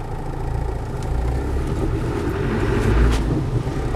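A Land Rover 110 with a 200TDi turbo diesel engine runs at a steady idle or cruise, a low continuous rumble heard close by with no talking.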